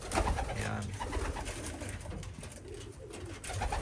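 Soft, low racing pigeon coos repeat under a steady background murmur, fairly close and moderately loud.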